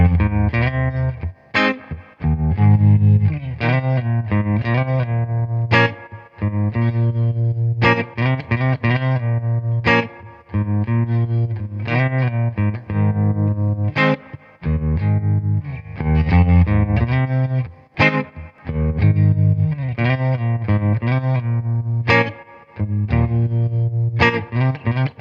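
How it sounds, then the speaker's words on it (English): Telecaster electric guitar played through a Fender '68 Deluxe Reverb reissue's vibrato channel, optical tremolo pulsing each chord in a steady wavering rhythm, loud and close with clean chords and short rests. "the vibrato channel gives us a really nice optical trem."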